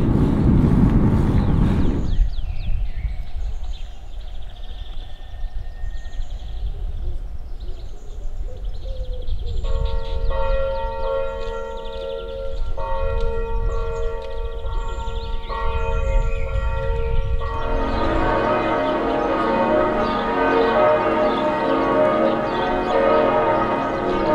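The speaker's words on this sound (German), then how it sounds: "die Glocken läuten halt hier ganz schön lang am Sonntag" Church bells ring on a Sunday in a town along an alpine e-bike route. A long, steady peal sounds from a moderate distance, with birds chirping and a rush of wind or road noise at the start.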